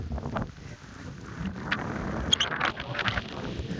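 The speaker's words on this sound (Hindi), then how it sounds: "इतना यहाँ हवा चल रहा है" Steady wind buffets the microphone at an outdoor Bhojpuri film shoot, a constant low rumbling roar with a few light knocks and no speech.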